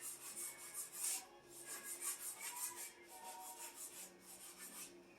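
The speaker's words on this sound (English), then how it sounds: "I'm scraping out with a little bitty flathead screwdriver" Old grout in a shower being scraped out with a small flathead screwdriver, giving a soft, continuous gritty rasping in short uneven strokes, close but faint with no voices.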